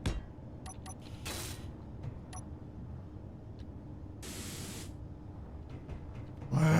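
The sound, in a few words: spray painting with the paint gun in video game Space Engineers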